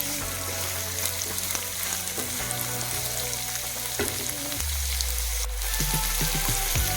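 Chopped onions and golden-browned urad dal sauté in a pan, giving a steady close sizzle broken by occasional scrapes and stirs, with no talking.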